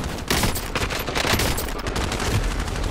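Video game gunfire in a Rebirth match, dense continuous automatic bursts, loud and close, filling the whole moment without pause.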